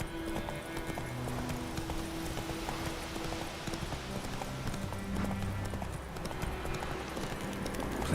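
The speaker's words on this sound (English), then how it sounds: "Run, Roach" A horse gallops in the video game The Witcher 3: Wild Hunt, with continuous rhythmic hoofbeats over a dense bed of game ambience and music, steady and moderately loud throughout.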